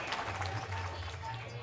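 An audience at a devotional Hindi poetry recital claps steadily for a couple of seconds, a soft diffuse patter over a low sustained tone.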